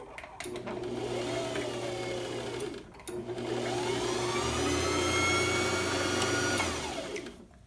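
Sewing machine winding a bobbin, a steady close motor whir that speeds up and slows down across two long runs with a brief stop between them, with no voices.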